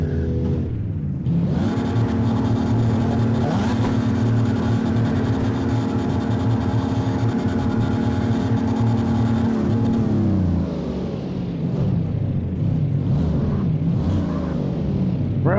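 A car engine in the video game CarX drones and revs steadily, loud and close, with rising and falling pitch, then eases off briefly before revving again.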